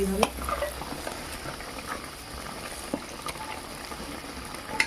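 Boiled eggplant being stirred and mashed in a pan, soft scraping and dabbing with a utensil over a faint sizzle, with occasional light clinks of metal against the pan, quiet and close.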